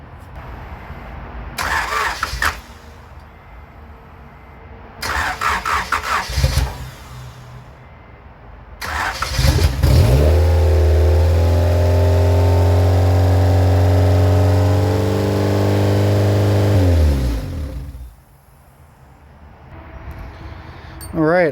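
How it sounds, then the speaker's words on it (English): A 1991 Honda Civic RT wagon engine, with no exhaust fitted, cranks three times in short bursts, then catches and runs loudly and roughly with a harsh, unmuffled drone for several seconds before shutting off. "I don't have the exhaust hooked up either, so that's why it's so loud"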